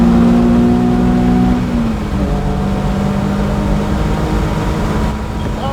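A car lapping a wet circuit during a time-attack session gives off a loud continuous engine drone heard from inside, pitch dropping partway through as it shifts or lifts, then holding steady over road noise.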